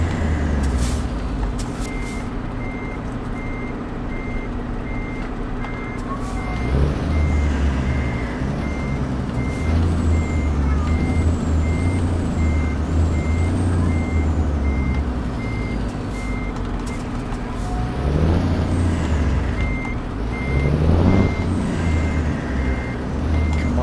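A heavy truck in a trucking video game turns and reverses, its engine rumbling low while a steady run of reversing beeps repeats evenly throughout, with air-brake hisses and creaks rising twice.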